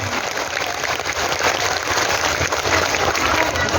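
Crowd at a religious gathering bursting into loud applause, dense rapid clapping from many hands with a faint crowd murmur underneath, sustained and close for nearly four seconds.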